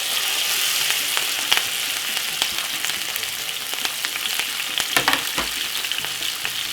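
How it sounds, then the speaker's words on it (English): Vegetables fry in hot oil over medium heat for a Jamaican corned beef dish, a loud, continuous crackling sizzle with scattered pops and spatters close by, no voices. "make that fry for about 2 to 3 seconds"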